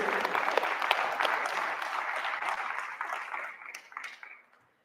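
Audience applause at a Midwest awards ceremony, a dense round of clapping that holds steady and then thins out and fades to silence near the end.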